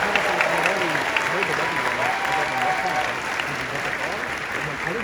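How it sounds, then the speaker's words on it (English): Audience applause at the Funnel Hacking Live 2021 marketing conference, sustained crowd clapping with a voice talking over it throughout. "can we give a round of applause for just being the 7th FHL?"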